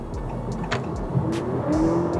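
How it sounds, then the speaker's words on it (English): Simulated engine noise from a Honda Civic RS e:HEV hybrid sedan, a steady mid-pitched hum that rises in pitch and then eases off as a fake gear upshift is played, heard up close from inside the cabin. "there's a kind of like simulated gear shift where the noise also diminishes when you upshift to a"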